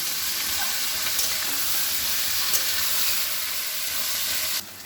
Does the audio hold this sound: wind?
no